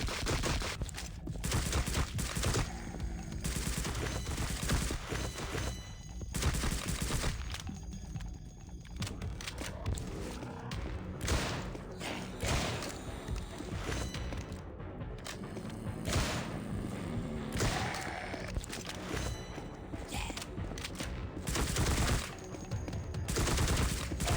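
Dense gunfire from a pixel-style shooter video game blending Minecraft and Call of Duty, with rapid bursts and fusillades running loud and continuous for the whole stretch, little pause between volleys.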